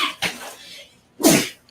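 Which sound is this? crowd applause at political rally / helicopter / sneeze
sneeze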